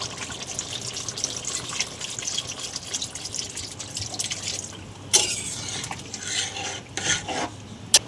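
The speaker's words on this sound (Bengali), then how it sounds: "আমাদের চিকেনটা তো পাতলা ঝোল হবে, তার জন্য আমি জল দিয়ে দিলাম।" Water poured into a pan of simmering chicken curry for a thin gravy, a steady wet splashing and trickling that then breaks into a few sharper stirring and dripping sounds near the end.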